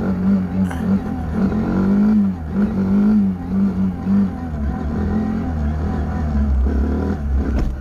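A 2017 Kawasaki Z125 Pro motorcycle revs hard in second gear during wheelies, its small engine rising and falling in steady surges, loud and close, with a rider's voice faintly mixed in.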